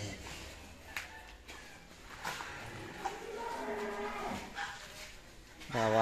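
Cattle in a barn low several times with drawn-out moos, one close and loud near the end, over faint shuffling and a hint of background voices.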